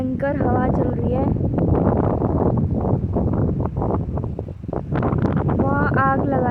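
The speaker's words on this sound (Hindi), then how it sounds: "भयंकर हवा चल रही है।" Strong mountain wind gusts and roars across the microphone in the hills of Rudraprayag, Uttarakhand, in the evening. The wind blows loud and steady throughout while someone talks over it.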